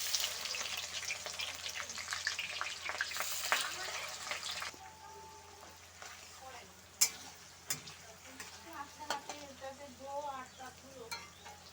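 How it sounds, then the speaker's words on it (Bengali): Onions fry with whole spices, bay leaf and dried chillies in oil, a soft hiss of sizzling overlaid by repeated scraping stirs and occasional clinks of a spoon against the pan. "সাথে পেঁয়াজ ফোড়নগুলো দিয়ে দিলাম"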